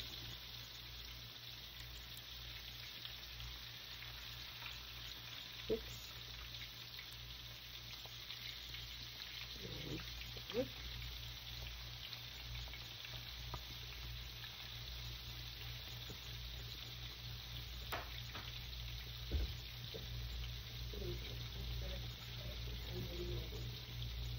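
Chicken pieces frying in hot oil, a steady soft sizzle with faint clinks and stirring, no one talking.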